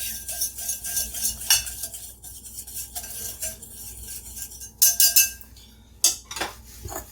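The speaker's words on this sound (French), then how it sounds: "Mélange nos ingrédients secs." Dry pancake ingredients whisked in a bowl, a close rhythmic scratching and tapping of utensil against the bowl, with a few louder clinks near the end and no talking.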